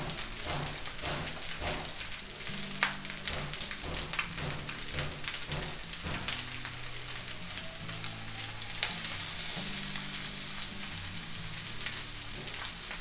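Arroz carreteiro frying on a plow disc, with a dense continuous sizzle and crackle throughout and stirring scrapes, over a low steady hum and faint background music.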